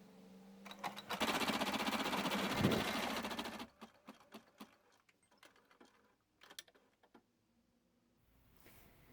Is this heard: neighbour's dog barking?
no